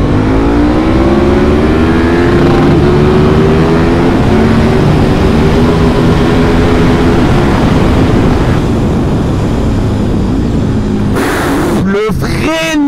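A KTM Super Duke 1290 R motorcycle pulls hard in second gear, its engine roaring loudly and climbing steadily in pitch under heavy wind rush, ending with abrupt throttle changes.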